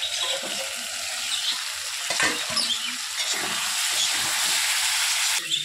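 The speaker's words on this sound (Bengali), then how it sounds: "ভেজে রাখা আলু আর পটলগুলো দিয়ে দেবো, নেড়ে চেড়ে ঢেকে দেবো।" Fried potatoes and pointed gourd get stirred in a hot pan: a continuous loud sizzle and hiss with irregular spatula scrapes and knocks against the pan, close up, no voices.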